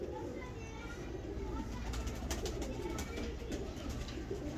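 A pigeon coos softly in a steady low murmur, with faint background noise and distant children's voices.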